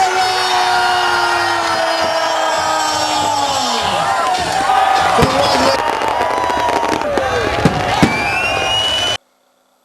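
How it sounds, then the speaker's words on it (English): New Year's midnight fireworks in Goa, with a dense barrage of whistling rockets, crackles and sharp bangs over a loud cheering, shouting crowd, ending abruptly. "The night was lit up bright with the dazzling array of fireworks seen all over the state at the stroke of midnight."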